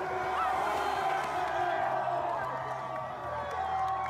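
Crowd of protesters gathered around the Edward Colston statue in Bristol, a steady murmur of many voices with scattered shouts and whoops, moderately distant, with talk mixed in.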